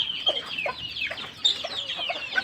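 A Nizam-breed rooster clucks repeatedly at close range, short throaty calls in an uneven rhythm with no one speaking.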